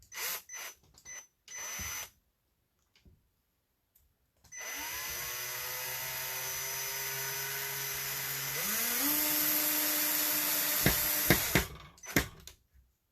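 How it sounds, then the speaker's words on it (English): A power drill drives a couple of screws to hold a part in place, whirring steadily for several seconds and then rising in pitch. Brief clunks and bumps of handling come before and after. "change my bit, and we will put a couple of screws into this to hold it in place"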